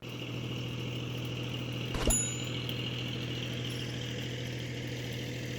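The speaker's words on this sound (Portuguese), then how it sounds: "Se não fosse esse barulho desse motor ligado, ia tá só a paz aqui" A motor runs steadily in a quiet rural setting in the interior of Amazonas, a constant low hum with no variation. One brief sharp sound cuts through it midway.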